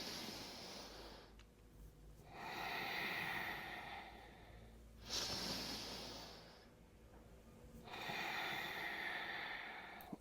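Slow, airy exhalations from a person during a chest-opening stretching exercise. Two or three long, soft breaths sit close and fairly quiet, with brief gaps between them.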